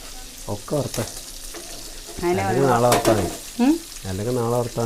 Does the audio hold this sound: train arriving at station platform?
no